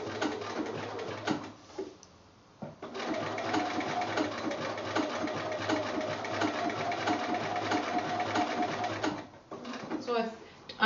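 A sewing machine stitching a Tūī appliqué quilt block, running in steady rapid bursts close by with short pauses between runs, while a person talks over it.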